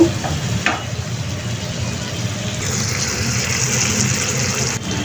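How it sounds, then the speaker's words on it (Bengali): Prawns frying in a pan, a steady close hiss and sizzle with occasional stirring clatter, continuous throughout. "দুই তিন মিনিটের মতো আমি এই চিংড়ি মাছটাকে একটু ভেজে নিব"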